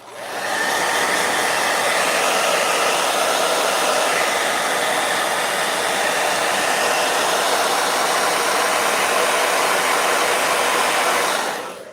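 A blow dryer runs loudly and steadily with a constant whooshing hiss, switching on at the start and cutting off at the end.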